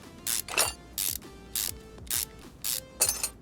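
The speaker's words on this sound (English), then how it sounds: "it would be nice for these large bolts that take forever to unscrew" A game ratchet in Car Mechanic Simulator 2021 unscrews large bolts on a V6 engine: evenly spaced bursts of clicking ratchet strokes, about one every half second, each followed by a faint mechanical tail, with no voices.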